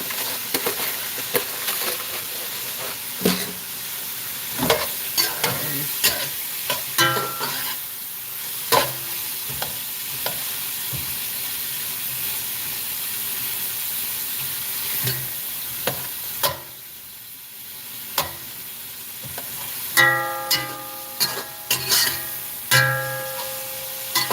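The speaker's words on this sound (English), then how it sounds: "Sauteed it just a little bit." Seasonings and pimento seeds sautéing in a pan for steamed fish, giving a continuous sizzle broken by frequent sharp scrapes and clinks of stirring, with louder metallic knocks near the end.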